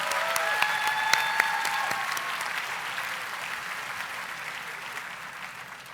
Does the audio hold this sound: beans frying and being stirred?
no